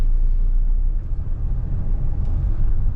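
Mahindra XUV700 diesel SUV, a seven-seater with a manual gearbox, on the move in sports mode, heard from inside as a steady low road and engine rumble with no break or change in loudness.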